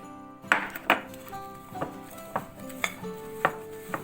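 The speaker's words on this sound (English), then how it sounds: "First, whisk everything." A whisk clinks against a bowl while chocolate log (bûche de Noël) batter is beaten with powdered sugar: sharp ringing taps come every half second or so, close and fairly quiet, with no voices.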